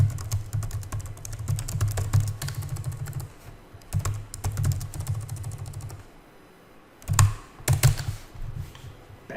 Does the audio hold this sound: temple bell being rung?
no